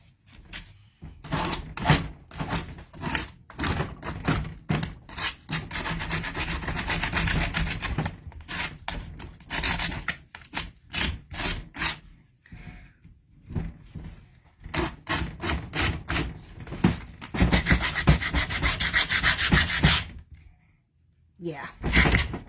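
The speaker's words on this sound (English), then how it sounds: "I want to get a little sandpaper on this real quick." Wooden garden stakes being sanded by hand with sandpaper, a close, rapid series of scratchy rubbing strokes that come in bursts with short pauses, while a person talks over the sanding.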